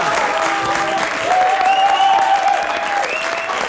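A French television audience applauds steadily with a dense, continuous patter of clapping that holds at full strength from start to finish, with a faint voice in the background.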